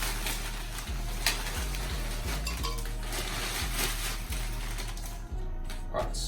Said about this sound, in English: So I'm gonna put in some ice cubes here.